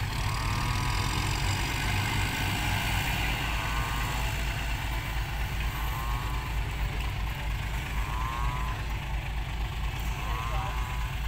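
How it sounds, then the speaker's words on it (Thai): A tractor engine runs steadily while the machine sits stuck in deep mud, a constant loud low rumble with a recurring mechanical whine throughout, as at a muddy site where a dump truck is also bogged down. "โอ้รถไถนี่จะจมแหล่ไม่จมแหล่ละครับ"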